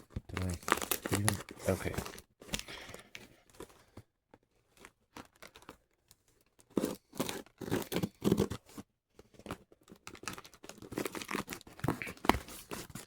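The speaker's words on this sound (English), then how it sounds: "I would have cut all this tape before I hit record." Packing tape being cut and torn off a shipped package, crinkling and ripping in bursts close by, with a pause of near silence midway and a person speaking briefly.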